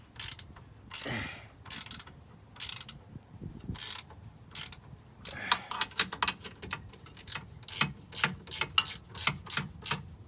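A ratcheting wrench turns a bolt on a Jeep JK in short clicking runs, close and moderately quiet, with scattered metallic taps and handling noises between strokes.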